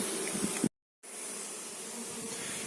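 A dense, steady buzzing of many bees close by at an apiary in hot weather, briefly cut to silence before the swarm hum resumes.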